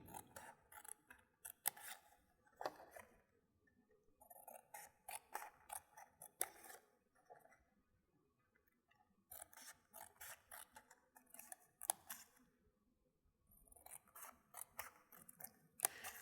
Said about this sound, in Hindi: कैंची भी आपने एहतियात से चलानी है ताकि आपके हाथ पे ना लगे